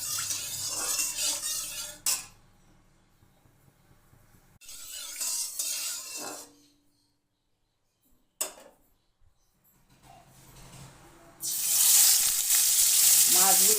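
Koi fish fries in mustard oil in a pan, with loud close sizzling bursts separated by quiet gaps, occasional clatter of a spatula or utensil, and a strong hiss at the finish. No one speaks.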